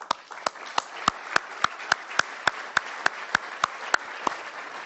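Applause at an awards event for board vice chairs, sparse audience clapping with distinct loud individual claps standing out in a steady, regular rhythm over a soft wash of other hands.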